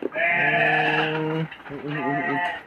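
Merino and Texel cross sheep in a modern pen bleat up close: one long, steady bleat, a brief pause, then a second wavering bleat.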